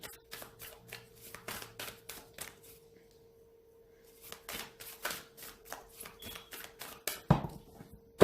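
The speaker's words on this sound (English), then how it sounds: "I think I want to keep shuffling." Tarot cards being shuffled in repeated bursts of quick riffling taps, close by, pausing for a few seconds in the middle before resuming.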